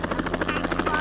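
Helicopter in a video game, a loud close rotor with fast rhythmic chopping pulses over a steady engine hum that stays at an even level throughout.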